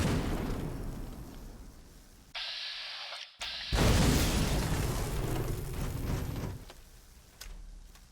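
Explosions in Fallout: New Vegas, with booming blasts and bursts of rumbling noise that cut in and out over several seconds. A couple of sharp pops break up the noise, and no one speaks.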